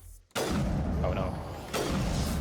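Sniper rifle fire in Mass Effect Legendary Edition. One heavy, booming shot is followed by a long roaring tail, then a second blast swells near the end, loud and close.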